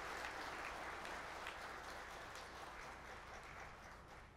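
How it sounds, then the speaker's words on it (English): Sustained applause from a seated audience at an award ceremony for a physics and mathematics prize winner, a dense steady clatter of many hands clapping throughout, easing slightly toward the end. "Please give him another round of applause."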